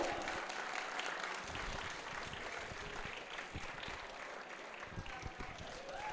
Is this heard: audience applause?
yes